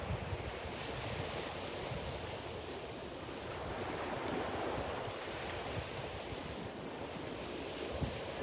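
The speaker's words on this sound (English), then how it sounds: "We're a little far up for you to see the actual waves crashing." Ocean surf rolling onto a beach, heard from a little way up the shore as a steady, continuous wash of breaking waves mixed with wind, with no talk over it.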